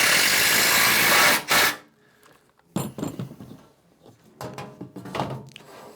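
Power screwdriver driving screws into a modular Innovatools bending brake during assembly, a loud whirring burst followed by quieter clicks, clanks and short tool whirs.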